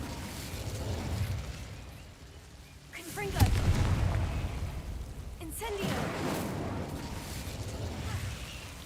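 Confringo and Incendio fire spells are cast in the video game Hogwarts Legacy, producing two heavy booming blasts with rumbling tails over a continuous game soundscape while a person talks.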